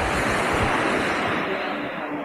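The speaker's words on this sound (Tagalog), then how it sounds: "Yun mga kalaboy, ang dagat dito." Sea waves wash steadily onto a sandy beach at San Juan, Batangas, a loud continuous surf roar with wind noise and no talking.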